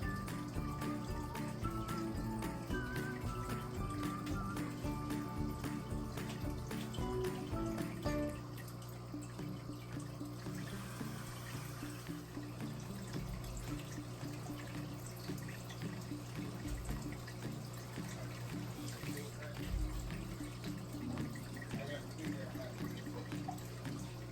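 Water flows and gurgles steadily through an aquarium hose, a continuous close rush with a constant hum underneath.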